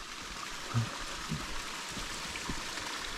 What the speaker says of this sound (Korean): 여기 개울 물소리, 물이 깨끗해요.